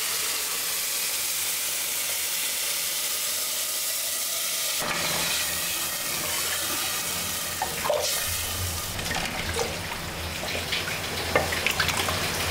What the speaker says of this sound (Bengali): আমি এটা ঠান্ডা পানি দিয়ে দিচ্ছি